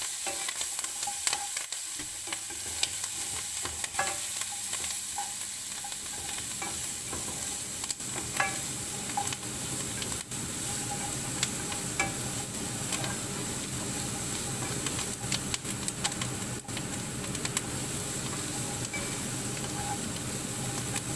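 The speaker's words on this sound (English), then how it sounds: "Now I'm going to cook this for a couple of minutes just till the onion's starting to soften." Chopped onions fry in a pot as the base for chicken chasseur, with a steady, close, continuous sizzle and hiss that runs unbroken with occasional small crackles.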